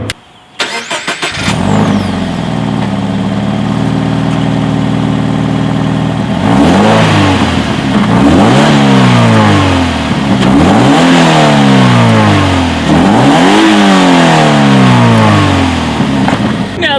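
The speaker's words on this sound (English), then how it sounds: "Here is that awesome exhaust clip." A 2016 Scion FR-S with dual exhaust starts up, settles into a steady idle, then is revved hard in a series of rising and falling sweeps, loud and close, with no talking.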